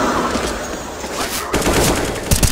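Gunfire from a professional Counter-Strike match at the PGL Major Krakow 2017, with scattered shots through a smoke grenade; dense bursts and clattering reports, loudest after the midpoint and close to the end, under a steady game mix.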